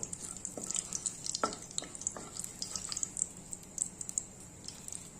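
Whole cinnamon stick, cracked cardamom pods, cloves and bay leaves frying lightly in hot oil in a pan for chicken and potato curry, with a steady high sizzle and scattered crackles and small pops, close and fairly quiet, no talk.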